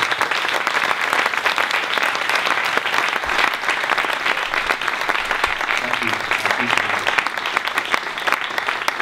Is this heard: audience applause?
yes